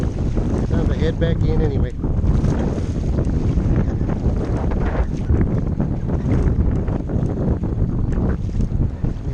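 Strong wind buffets the microphone over choppy water on a Perception Pescador Pilot 12 fishing kayak, a loud, steady roar with splashing throughout, while someone speaks briefly early on.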